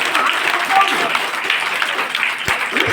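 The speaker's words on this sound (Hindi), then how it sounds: "आप खुश से ताली बजाइए" A church congregation at a Sunday service claps in a steady, dense patter that runs throughout, with a voice speaking over it.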